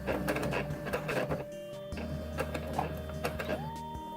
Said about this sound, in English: So I'm turning the fabric, putting the foot down again, and sewing right over it carefully.